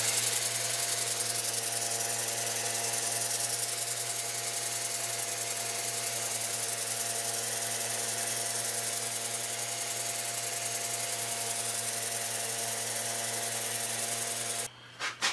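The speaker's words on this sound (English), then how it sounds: "it is a good sander, and it will do an outstanding job on the outside of this bowl" A power sander runs steadily on the outside of a wood bowl cut from a dead tree, working up through grits to 400, giving a constant, even whir with a low hum that cuts off abruptly at the end.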